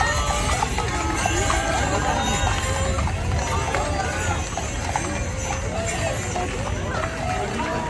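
Clopping hooves of at least four horses pulling a parade monument through a crowd in Haute-Garonne, a busy continuous patter of hoofbeats mixed with crowd noise and voices.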